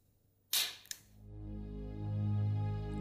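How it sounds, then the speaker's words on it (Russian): A single sharp, muffled pop close by from a Russian silent shooting knife being fired, followed by a faint click and then a steady low hum. "снять нож с предохранителя и произвести выстрел"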